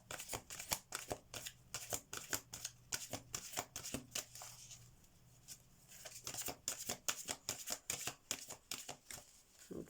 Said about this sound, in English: I'll pull an angel card from the deck for extra advice